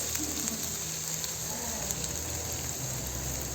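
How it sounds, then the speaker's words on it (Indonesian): A low, steady sizzle of spices sautéing in a pan over low heat, faint and even throughout, with no voices. "ini kita tumis sampai mengeluarkan aroma yang wangi ya"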